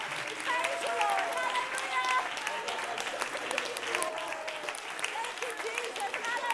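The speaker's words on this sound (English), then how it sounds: "Clap your hands up to the Lord." A church congregation claps together in praise, a sustained wash of hand claps filling the room while voices call out and speak over it.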